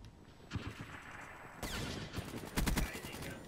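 Sniper rifle shots in the video game Call of Duty: Black Ops 3, a few sharp loud cracks with a heavier blast near the end, amid game noise.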